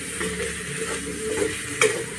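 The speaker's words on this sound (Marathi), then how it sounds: "पहिली वांगी पण चांगली आता तेलात परतून घेते।" Brinjal fries in oil with Malvani masala, a close, steady sizzle broken by light scraping and a sharp clink of a spoon against the pan.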